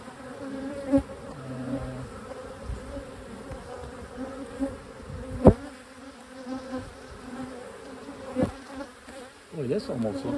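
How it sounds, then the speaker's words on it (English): Steady insect buzzing from many honey bees at an open hive hums throughout, with a few brief knocks and handling sounds rising above the drone. "I see a couple bees walking around with pollen on them."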